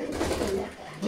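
Pigeons coo softly in a short burst, low rounded calls close by against a faint background hiss.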